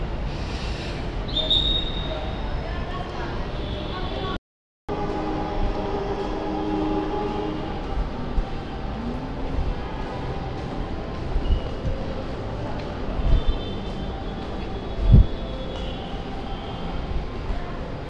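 Ride aboard an LRT Line 2 train, a steady rumbling hum of the car in motion with rising and falling motor whine, a short dropout and a sharp thump near the end, no talking.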